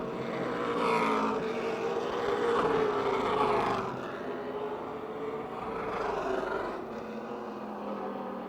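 Race cars at a speedway circle the oval in single file, a continuous roaring engine drone that rises and falls as the pack passes, heard from a distance.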